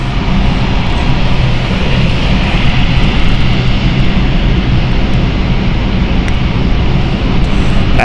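An airplane departing London City Airport off runway 09 roars loudly and steadily throughout, a close, continuous engine rumble with no pauses.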